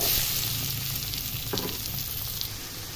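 Chopped onions fry with raw prawns in a hot pan for a curry, giving a steady, close, even sizzle with faint stirring scrapes and no talk.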